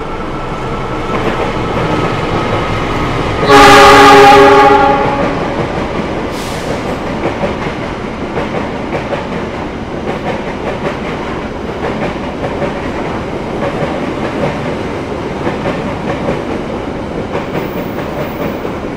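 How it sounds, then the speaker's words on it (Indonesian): The Argo Lawu, an express passenger train running from Solo and Yogyakarta to Jakarta Gambir, passes close by with a loud rumble and rattling wheels, and a strong horn blast sounds early on over the steady roar of the cars. "Yang melintas adalah kereta api Argo Lawu, kereta cepat dari Solo, Jogja menuju Jakarta Gambir."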